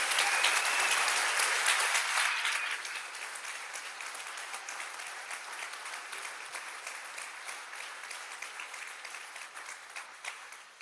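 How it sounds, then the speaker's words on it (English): Audience applause fills a state house chamber during a floor session, loud at first and then thinning after a few seconds into lighter, scattered clapping that fades toward the end. "Let's give all them a round of applause"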